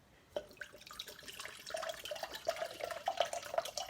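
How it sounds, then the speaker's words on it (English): Water poured from a drinking container into a small craft pot, making quiet, irregular trickles and drips that grow busier toward the end. "I'm just going to pour some of my water into here."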